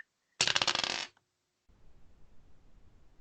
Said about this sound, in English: I did roll the dice to see what you would see